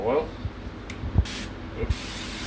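Black truffle oil sprayed from a spray bottle in a home kitchen, two short bursts of hissing mist close by, with a person talking underneath.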